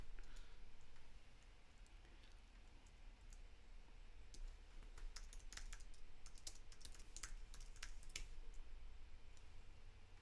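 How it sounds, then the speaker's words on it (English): Typing on a computer keyboard, a fast irregular run of close, crisp key clicks over a faint steady hum, with no voices. "Sorry, I started typing something then. I forgot to finish typing it."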